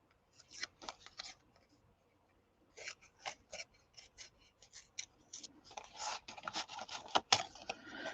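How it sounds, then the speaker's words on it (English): Little paper cards are torn by hand around flower shapes in a series of close, short rips and crinkles, with pauses between bursts and a faster cluster toward the end. "So I'm going to tear my little cards right around my flowers."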